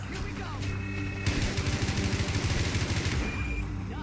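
Gunfire from gunners in the video game Fallout 4: rapid automatic bursts that build to a dense, sustained rattle of shots, over steady game ambience.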